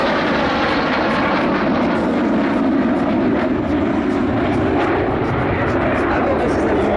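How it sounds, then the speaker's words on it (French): Military jet patrol of the 4th fighter wing of Saint-Dizier, the Requin-Mike team, flying past at the AirLegend 2023 airshow. A loud, steady engine roar runs throughout, with a voice talking over it. "Le passage à l'anglaise de la 4e escadre de chasse de Saint-Dizier."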